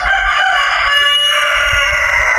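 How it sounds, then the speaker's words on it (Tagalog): A rooster crows loudly and close, one long drawn-out call filling the whole stretch, with no talking over it. "ang background naman po ay tilaok po ng manok"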